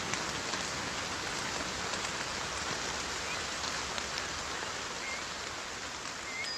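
Steady rain falls throughout a scene from the Brazilian film Bacurau, an even, moderately soft hiss of drops on surfaces with no talk.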